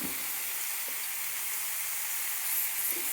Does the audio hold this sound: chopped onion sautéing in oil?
yes